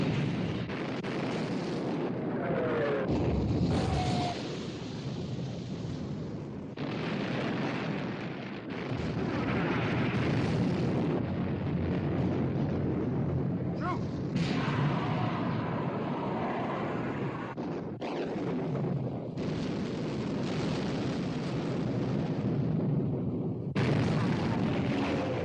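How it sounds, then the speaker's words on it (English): Heavy naval gunfire as the battleships Prince of Wales and Bismarck exchange fire in a 1960 war film, sustained roaring blasts and rumbling booms at full loudness, with a dense, wind-like wash of battle noise throughout. "Prince of Wales and Bismarck exchanging fire."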